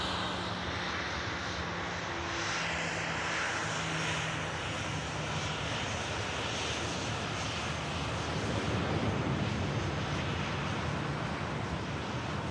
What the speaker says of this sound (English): the Qatar 777 blasting out 2-3 left on the second runway here at Manchester